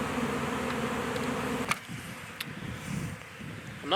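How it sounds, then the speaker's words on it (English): Swarming honeybees flying around a trap box outdoors give a steady close buzz for the first part, then fade to a thinner hum under wind noise and a few sharp knocks. "now all the bees are flying around like crazy"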